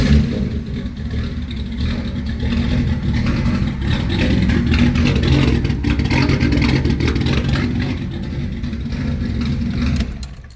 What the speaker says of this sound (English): The car runs and fires up on its own, like you can see.